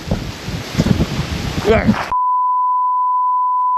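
Heavy gusts of wind buffet the microphone outdoors on a hike, with rumbling, rustling wind noise for about two seconds before it cuts off into a steady tone.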